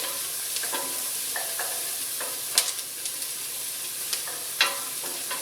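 Onion frying in a pan for baked beans, a steady hiss of sizzling with scattered scrapes and clicks as a utensil stirs, alone without talk.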